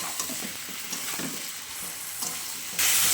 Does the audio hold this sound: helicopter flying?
no